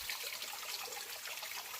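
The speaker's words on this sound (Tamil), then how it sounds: "இது ஒரு ஓடை." A small forest stream runs in a soft, steady trickle and gurgle of flowing water, continuous and fairly faint with no voices.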